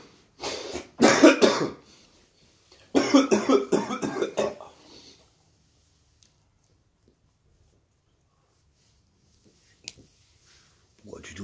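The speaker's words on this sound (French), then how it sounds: "Un tonton, pourquoi tu tousses?" A child coughs in two harsh bursts of several rapid coughs each, close and loud, followed by quiet with a few faint clicks and small noises.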